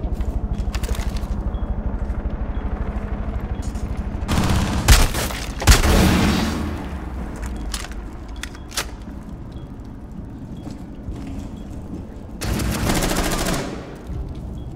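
Gunfire in Rainbow Six Siege during a bomb match, several bursts of rapid automatic shots and single booms spread across the clip, loud and punchy against quieter game ambience.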